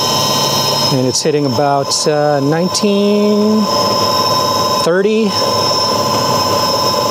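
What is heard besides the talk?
electric motor of EGO mini bike with Econic Cycles kit spinning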